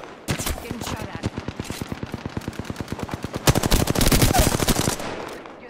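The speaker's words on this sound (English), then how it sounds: "Getting shot at." Gunfire in the battle royale shooter Apex Legends: a steady, rapid stream of automatic shots rattling close by, growing denser and louder toward the end before easing off.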